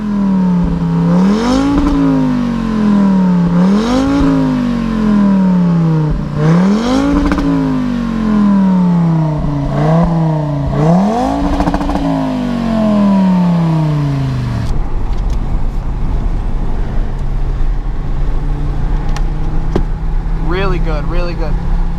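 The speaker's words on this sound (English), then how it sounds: "All right, you can rev it." A 470 hp Audi TT RS engine is revved on a race track in a series of about five rising, loud revs that fall back each time, followed by steady engine drone, with people talking over it.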